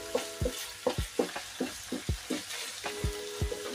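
Ground pork stir-fried in a pan, with a spatula scraping and stirring in a steady rhythm of about a dozen close, distinct strokes over a continuous sizzle.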